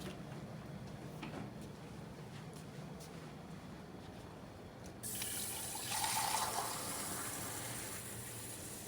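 Faint room quiet gives way to a sudden, steady rush of tap water pouring into a laboratory beaker, filling it to test soil pH. The flow is close and continuous for the last few seconds.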